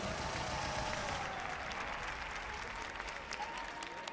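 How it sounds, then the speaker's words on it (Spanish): A live audience at a Spanish-language star battle event in Madrid claps loudly and continuously, a dense, even roar of applause throughout. "¡Fuerte ese aplauso!"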